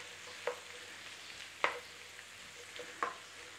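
Onion cooks gently in a pan with a faint, quiet sizzle, broken by three short scraping stirs spaced about a second apart.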